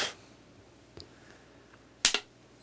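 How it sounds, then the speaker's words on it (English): One sharp, close clap marks the start of a recording. A few faint clicks come before it, and the room is otherwise quiet. "When you hear the clap"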